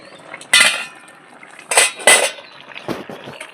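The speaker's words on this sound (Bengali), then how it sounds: "আবার আমি ঢাকাটা দিয়ে দিচ্ছি ঢাকাটা আমি খুলে নিচ্ছি" A metal pot lid clanks down and lifts off a cooking pot of boiling tomatoes, with several bright, close clatters and scrapes spread over a few seconds against a quiet kitchen background.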